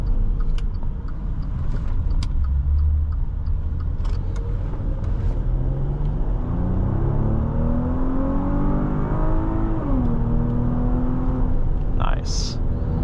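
2020 Maserati Levante GranLusso accelerating from inside the cabin, engine note rising through the gears with a brief dip at a shift, steady road rumble underneath, close and loud.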